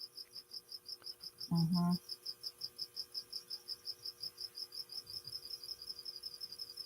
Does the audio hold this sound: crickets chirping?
yes